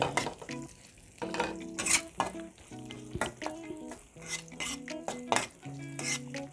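Chili and garlic stir-fry in a hot pan, with a bright sizzle and repeated clanks and scrapes of a metal spatula against the pan in an uneven rhythm.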